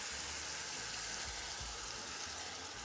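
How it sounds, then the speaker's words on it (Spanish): Tomato frying in a pan for a home-style potato and chicken stew gives a soft, steady sizzle with faint crackling, fairly quiet and continuous, with no talking over it. "Y dejamos tranquilamente que el tomate se vaya friendo."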